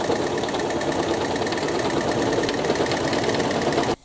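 A sewing machine runs continuously, stitching the fabric of an oversized tee with a fast, even mechanical whir and rapid needle clatter, close by, then stops abruptly at the end.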